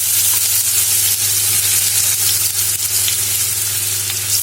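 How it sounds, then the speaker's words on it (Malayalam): Finely chopped shallots frying in oil with popped mustard seeds: a loud, close, continuous sizzle with a busy crackling texture, unbroken for several seconds with no talk. "കടുക് പൊട്ടി കഴിയുമ്പോഴേക്കും ഞാൻ ഇതിലേക്ക് ചെറിയ ഉള്ളി ചെറുതായി അരിഞ്ഞു വെച്ചത്"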